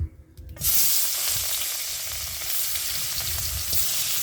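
Fish frying in hot oil over a clay village stove: a loud, steady sizzle with dense crackling spitting that starts abruptly and holds near and continuous, with no talk.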